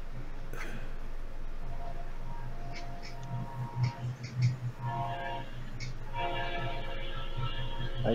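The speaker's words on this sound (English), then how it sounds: "Amtrak just went by." An Amtrak passenger train passes on a live rail feed from Charleston, Indiana, a steady low rumble of wheels and cars running through the whole stretch with a few brief louder swells, at moderate distance.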